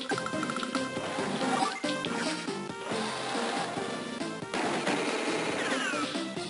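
Missile strike in the Advance Wars 2: Black Hole Rising video game, a run of rapid blasts and crashes layered over busy game music.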